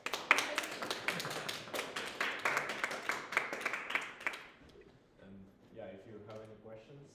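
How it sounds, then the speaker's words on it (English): An audience at a machine learning meetup applauds after a presentation, dense clapping for about four seconds that then fades out, followed by a quieter stretch with faint talk. "let's give him a round of applause"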